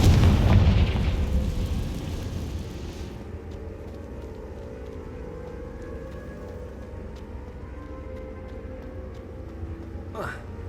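A booming fire-spell explosion in the Hogwarts Legacy video game: a loud burst at the start that rolls into a decaying low rumble, fading to a quieter background hum with faint ticking and a brief rising whoosh near the end.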